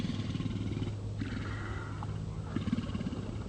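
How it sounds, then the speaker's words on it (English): Young male elephant seals at Año Nuevo give guttural, throaty challenge calls in short pulsing bursts, rough and rumbling at moderate distance amid outdoor background noise. "It's a vocalization challenge that's coming up out of their throat."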